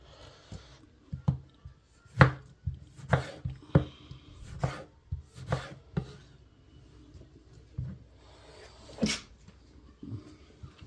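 Knife chopping capsicum and tomatoes on a board, a series of sharp, irregular close taps with quiet pauses between them and no talking.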